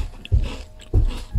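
Crunchy coin-shaped lidah kucing butter cookies being bitten and chewed, three crisp crunches in a steady rhythm, close and fairly loud with no talking.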